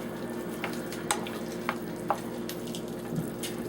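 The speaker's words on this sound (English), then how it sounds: "Stir it all in." Spinach and artichoke dip is stirred in a pan back on the heat, with a soft continuous sizzle and a few sharp spoon scrapes and clinks against the pan.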